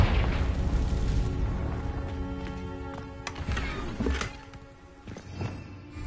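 The Confringo blasting spell in Hogwarts Legacy sets off a deep booming burst, followed by scattered crackling impacts and thuds as debris settles in a game scene.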